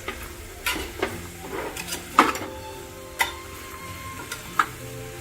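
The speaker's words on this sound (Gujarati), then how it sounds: "હવે એની અંદર આ ગાજરને હું સાંતળી લઈશ" Carrots sautéing in ghee in a pan on full flame, a soft sizzle broken by irregular clicks and scrapes of a spoon, close and fairly quiet, with no talking.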